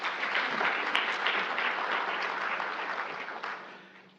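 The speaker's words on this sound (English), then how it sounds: "Another round of applause, please, for Dr. Thomas" An audience at a Pacific Islander health gathering gives a round of applause for Dr. Thomas, a dense burst of clapping that holds steady and then slowly fades toward the end.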